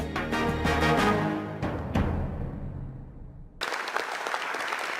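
A TV studio audience bursts into loud, dense applause that thins out and fades, then a fresh round of clapping starts up near the end.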